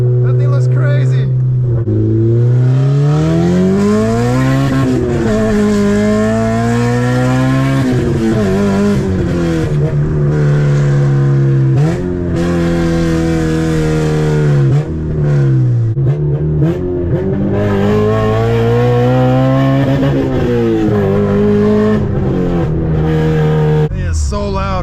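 A swapped, full bolt-on Honda RSX Type S engine revs hard through repeated full-throttle pulls heard from inside the car, its pitch climbing and dropping at each gear change, loud and close throughout.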